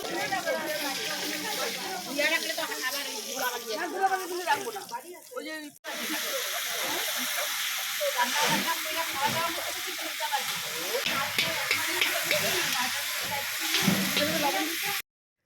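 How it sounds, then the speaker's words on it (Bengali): Brinjal slices fry in a pan at a rooftop picnic. People talk nearby over the first few seconds, then a loud, steady sizzle and hiss of oil carries on alone, with faint stirring, until it stops abruptly. "বেগুন ভাজা হচ্ছে তোর জন্য এবারে"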